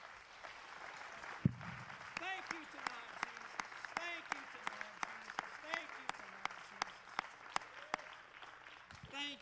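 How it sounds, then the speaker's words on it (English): A church congregation claps in a steady, rhythmic beat during an evangelist's evening service, with voices calling out over the clapping. "let's clap our hands unto the Lord one more time"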